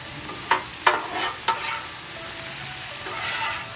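Mushrooms, squash and zucchini sizzle steadily on a hot griddle, with a few sharp scraping stirs of a spatula breaking through the constant frying hiss; no voices.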